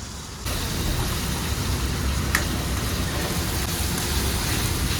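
Green chillies, tomato and spices being sautéed in a pan give a dense, continuous sizzle that starts abruptly after a brief quiet moment and holds steady and close, with no talking.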